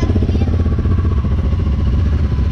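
A Honda CB300 motorcycle with its original exhaust runs close and loud, a steady pulsing engine drone with an even rhythmic beat throughout.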